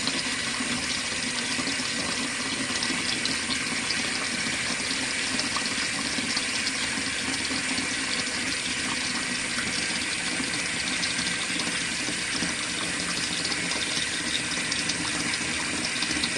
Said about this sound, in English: I'm going to stop the faucet.